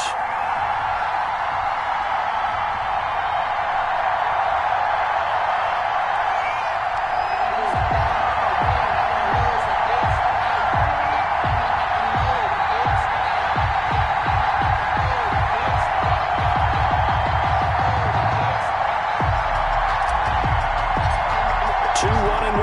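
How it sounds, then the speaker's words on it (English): Stadium crowd in a PS4 football game before a Los Angeles Rams versus Indianapolis Colts matchup, a constant roaring wash of cheering under a commentator's voice, with rhythmic stomping or clapping pulses in the middle. "This crowd is ready"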